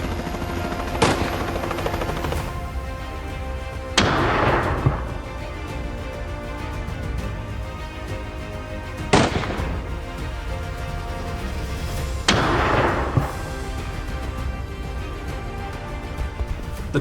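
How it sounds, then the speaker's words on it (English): A helicopter hovers over wild boar hunting grounds in Australia, its engine droning steadily. Four sharp gunshots ring out at spaced intervals, each cutting loudly through the rotor noise. "Each wild boar was shot down as they were moving."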